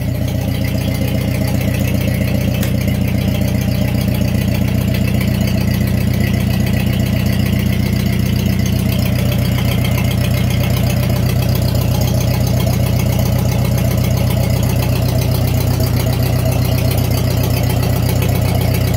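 A worn Ford 8N tractor engine idles slowly and steadily, a continuous loud low chugging with a faint knocking rhythm, heard up close with no talking.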